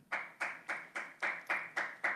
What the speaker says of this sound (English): whoever's clapping will be removed immediately now from the room.